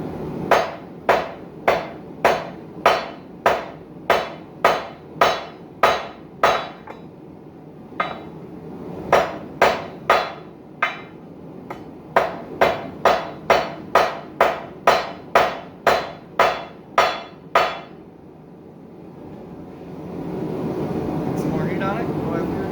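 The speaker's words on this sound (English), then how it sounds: "Try to spread it out a little bit as evenly as we can" A blacksmith hammers a steel wall hook at the forge, a long run of sharp, ringing metal-on-metal blows in a steady rhythm that breaks into a few short pauses, then trails off into quieter shop noise.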